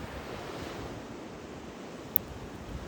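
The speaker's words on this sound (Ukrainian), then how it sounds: "Почуй хвилю, вона приходить і відходить, приходить і відходить." Sea waves wash steadily onto the shore in a continuous broadband roar with gentle surging, accompanied by light wind noise and no voices.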